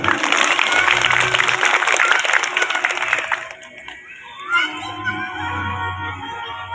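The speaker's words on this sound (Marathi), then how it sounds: "प्रथम तुम्ही तुमच्याच करता एकदा जोरदार टाळी वाजवा" A crowd at a Shiv Mahapuran religious discourse event claps loudly and densely for a few seconds, with children's voices mixed in, before the applause fades and quieter voices and music take over.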